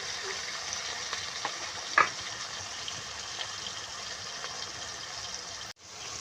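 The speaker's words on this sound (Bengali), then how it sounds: "এবারে টমেটো দিয়ে নিয়েছি আর এবারে এটাকে ভালো করে ভাজতে দিতে হবে" Tomatoes frying in a pan for a Bengali fish curry, a steady soft sizzle running throughout with a single brief clack near the middle and a short dip before the end.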